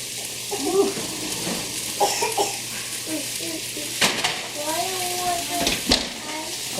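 Beef stew broth thickened with flour stirred in a roaster pan, with soft sloshing, utensil scrapes and a couple of sharp metallic knocks, under intermittent talking.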